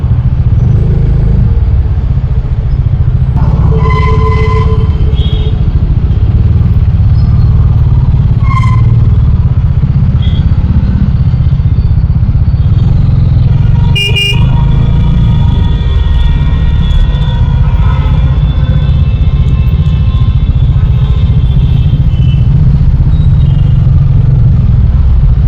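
Dense road traffic heard from a Triumph 400cc street motorcycle: a loud, unbroken engine and road rumble with a few brief horn-like tones poking through, close and continuous.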